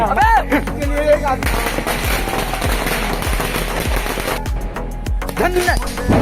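Diwali firecrackers burst in a rapid string of sharp, loud cracks and pops, close by and nearly continuous, with excited voices shouting over parts of the barrage.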